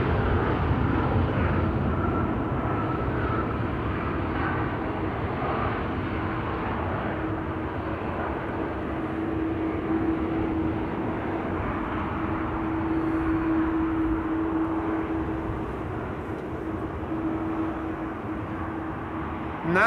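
An Air Baltic airliner in Baltic Heritage livery at Amsterdam Schiphol Airport, a steady loud jet engine roar with a sustained tonal whine running throughout, no voices.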